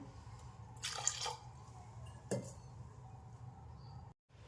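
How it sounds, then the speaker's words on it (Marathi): Water poured into a pot of dal before cooking it soft, a couple of short splashing bursts with light clinks close by in a quiet kitchen. "त्यामध्ये मी पाणी टाकते डाळ चांगली अशी मऊसूर शिजवायची आहे"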